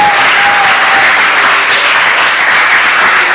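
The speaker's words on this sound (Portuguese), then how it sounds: "Aplauda bem forte a Jesus agora." A church congregation claps loudly and continuously, a thick, unbroken roar of many hands that stays at full strength from start to finish, with a faint held tone threading through the opening.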